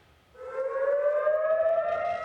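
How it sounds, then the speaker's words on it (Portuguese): A civil defense air raid siren sounds in Tel Aviv, a loud wailing tone that starts suddenly and climbs slowly in pitch, with no voices over it. "O que vocês estão ouvindo agora são sirenes."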